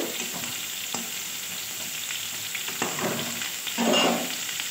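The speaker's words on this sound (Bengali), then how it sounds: "পেঁয়াজ, উচ্ছে আর বেগুন একসঙ্গে আমি ভেজে নিলাম" Onion, bitter gourd and eggplant frying in a pan, a steady close sizzle throughout with occasional sharp spatula scrapes and a louder stirring swell near the end, no voices.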